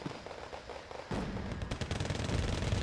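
Chinese napalm artillery fire in the Wargame Red Dragon video game: a quiet rumble that gives way after about a second to sustained, dense crackling bursts and booming impacts. The sound holds loud through the end, with no talk.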